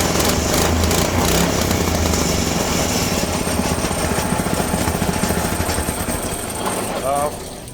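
A Predator 212 small engine with its governor removed runs loud and close, a fast rapid chatter throughout, while a voice talks over it.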